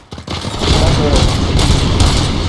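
A loud burst of rapid gunfire rattles continuously for a couple of seconds, sounding like automatic weapons in the game RoboCop: Rogue City.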